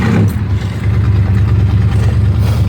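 A car engine idles on choke after a cold start, loud and close, with a low uneven rumble that stumbles and misses through the short stretch.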